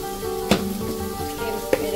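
Masala for chicken dopiyaza fries in a pan with a steady close sizzle, punctuated by two sharp clicks of a spoon stirring against the pan.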